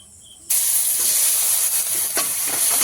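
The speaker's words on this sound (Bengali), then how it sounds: "ফোড়নে দেবো কালো জিরে একটা টমেটো দিয়ে দেবো" Nigella seeds and tomato dropped into hot oil, the sizzle bursting loud and close after a brief quiet start, then holding as a steady bright frying hiss.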